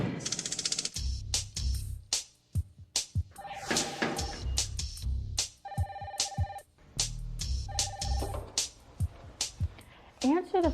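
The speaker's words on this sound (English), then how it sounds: "Answer the phone promptly, within 3 rings if possible." A desk telephone rings in an office setting, giving three short bursts of bell-like tone spaced through busy background noise of voices and clatter.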